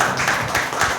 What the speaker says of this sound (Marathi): आता जर त्यांच्यासाठी टाळ्या वाजूया आपण